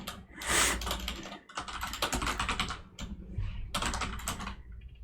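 Terminal commands are typed on a computer keyboard in quick, close-up bursts of clattering keystrokes separated by short pauses.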